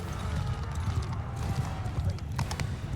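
Horses galloping in the Mount & Blade II Bannerlord battle game, a dense rumble of hoofbeats during a cavalry charge with a voice talking over it.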